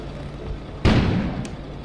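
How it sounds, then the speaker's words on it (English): A single sudden boom bursts out at close range in the video game Kona, a broadband blast that decays over about half a second over a low steady background, followed by a faint brief crack. "An explosion suddenly occurred outside."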